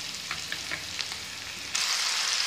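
Tomatoes added to a frying spiced dal masala, with soft stirring scrapes at first and then a sudden louder, brighter sizzle that holds steady to the end.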